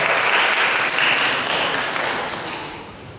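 Audience at a KVN comedy contest semifinal in Ukraine breaking into loud, dense applause that swells early and gradually fades toward the end.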